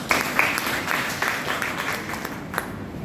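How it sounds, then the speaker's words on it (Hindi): Applause from an audience at a college poetry recitation event in Patna welcomes a reader, a steady, dense wash of many hands clapping with a few sharper claps standing out, continuing throughout. "तो इसी कविता को आगे सुनने के लिए हम जोरदार तालियों की गूंज से स्वागत"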